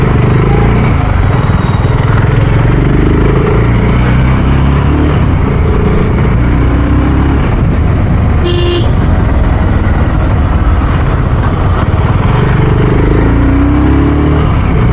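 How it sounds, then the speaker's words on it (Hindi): A BSA Gold Star 650 single-cylinder motorcycle engine runs loud and close with a thumping note, the revs rising and falling over strong wind rush, and a brief horn toot partway through. "जब रेव कर रहे हैं तो थोड़ा सा थंप महसूस हो रहा है इंजन का"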